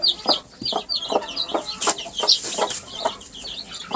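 A broody hen with chicks and guinea keets makes soft repeated clucks, close by, while higher chirps from the young rise and fall around her.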